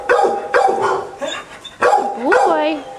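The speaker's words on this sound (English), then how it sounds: "You hear that other doggy?" A dog barks repeatedly nearby in short sharp bursts with a whining edge, interspersed with a person's voice talking over it.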